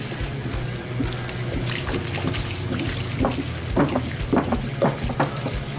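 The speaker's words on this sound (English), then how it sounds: "So we're gonna pour all this in here. Glug, glug, glug, glug, glug." A full gallon of milk pours into a large bowl of cereal with a continuous liquid trickle. Rhythmic glugging pulses come in toward the end, close and with no other sound.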